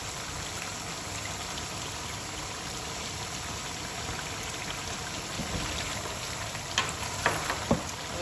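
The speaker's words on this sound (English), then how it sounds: "We fry all this together" Pepper, thyme, oregano and curry powder frying together in a pan for Ghana jollof rice, a steady close-up hiss of oil with a few sharper taps near the end and no talk.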